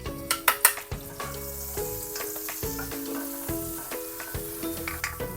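Onions sautéing with browned garlic in a pan: close, steady sizzling broken by regular scraping stirs and a few sharp utensil clinks at the start, with background music underneath.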